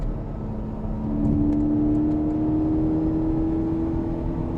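A 2025 Porsche 718 Cayman GTS with its 4.0 engine, a steady droning hum that rises slightly in pitch and holds, heard from inside the car with no talking.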